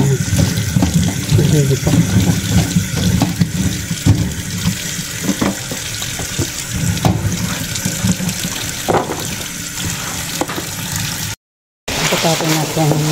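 Tap water runs steadily into a sink while string beans are rinsed, the broad wash continuing under a speaking voice and cutting out briefly near the end.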